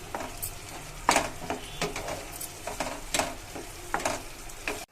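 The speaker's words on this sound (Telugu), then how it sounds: "ఆయిల్ బాగా పైకి వచ్చేంత వరకు మసాలా బాగా వేపుకోవాలండి" Masala for appadala masala curry frying in oil as it is stirred, a steady close sizzle broken by repeated scraping strokes of a spoon against the pan, with no voices.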